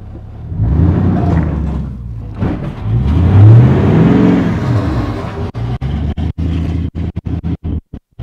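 A Lexus LS400 engine revs hard and climbs in pitch as it accelerates at full throttle, then sputters into choppy bursts and cuts out repeatedly near the end.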